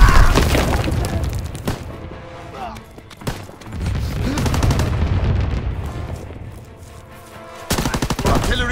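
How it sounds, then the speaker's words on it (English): Flak guns firing in a video game battle: rapid bursts and heavy booming shots, loud and close, with repeated volleys and brief lulls between. "Flak guns firing"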